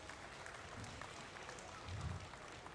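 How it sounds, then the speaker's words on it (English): Faint, distant applause fills an arena at a county fair livestock show, clapping for youth exhibitors as a steady wash of hands with low rumbles beneath. "one more big round of applause for all of our youth exhibitors today on a tremendous job"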